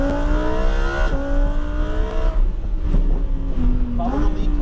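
A Lamborghini Huracan EVO's engine pulls hard on a race track, the pitch climbing through the revs with a brief break, loud and close from inside the car while people talk over it.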